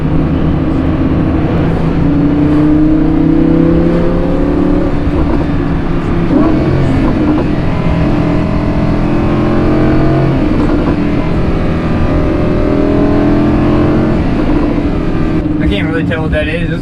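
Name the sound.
older Porsche car driving behind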